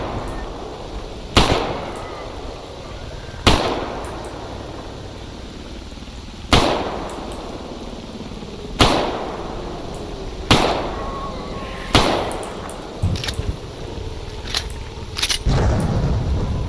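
M1911 pistol shots in the video game Stalker Anomaly, fired one at a time: about eight sharp, loud cracks at uneven intervals over steady ambient hiss, with no talking.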